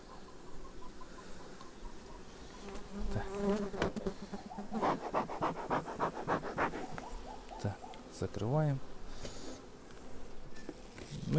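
Honeybees from a medium-weak colony hum and buzz steadily throughout, close to the listener, with brief louder swells and a few scratchy handling noises.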